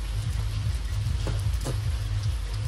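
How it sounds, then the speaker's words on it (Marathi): Steady rain falls on a roadside in a constant broadband hiss, with a low rumble beneath and a couple of faint brief knocks, no voices. "पाऊस काय लेच पडायला लागला"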